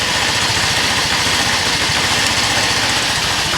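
Moped engine idling after reassembly, a steady, loud buzzing putter that holds an even pitch throughout with no voices over it.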